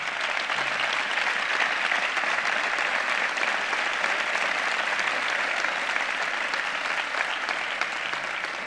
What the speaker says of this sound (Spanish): Un aplauso para los compañeros de Mazarrón